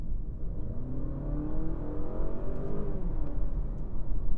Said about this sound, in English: when the engine is on and you put your foot down, you do hear it rev